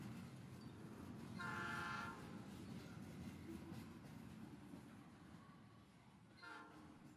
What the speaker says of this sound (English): you can hear the trains and stuff